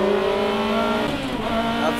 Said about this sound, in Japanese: 変化していくコンディションの中でいきなり全開モード